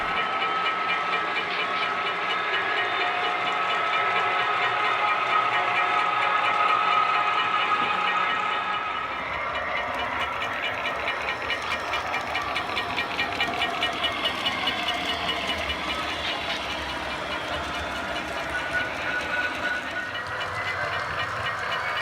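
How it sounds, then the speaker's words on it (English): HO scale model train rolling over layout track in a club's DCC railway layout, a steady continuous running hum and rattle with faint rhythmic clicking, moderately loud and unbroken, no one talking. "As you see the train traversing over the track that it just went to"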